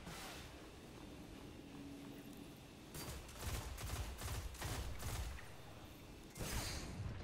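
Gunfire in a multiplayer shooter video game: a quick series of sharp, fairly loud shots in an irregular burst, then a pause and one more heavy shot near the end, with no talking.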